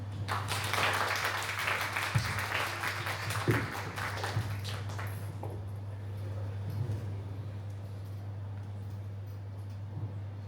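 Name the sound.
audience applause for the speakers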